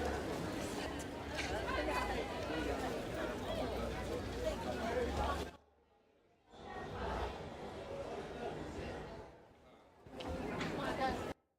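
Crowd chatter ambience processed with added reverb: a dense, echoing murmur of many voices that cuts out to near silence twice, at about 5.5 and 10 seconds, then returns.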